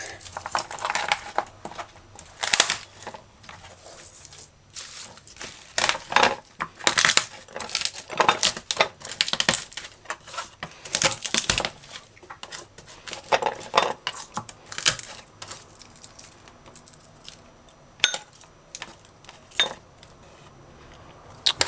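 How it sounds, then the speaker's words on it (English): Garlic cloves smashed on a kitchen board while preparing curried goat meat, a series of sharp uneven thumps and cracks close by, with some clattering and brief speech between blows. "If you smash it like that, it come out"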